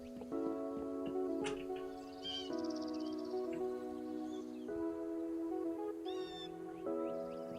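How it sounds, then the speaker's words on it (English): Birds chirp in a video game, a few short bright tweets and trills scattered over a steady tonal music backdrop, faint and intermittent. "You can hear the birds."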